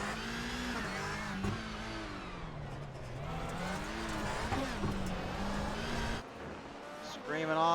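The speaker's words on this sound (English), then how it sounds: "That car is screaming to the line." A rallycross race car's engine screams hard at Brands Hatch, a loud sustained howl rising and falling in pitch through gear changes, with a commentator talking over it throughout.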